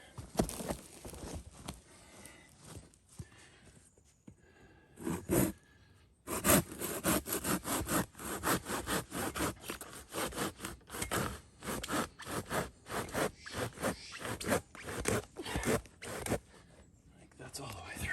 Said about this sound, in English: So they cut both ways.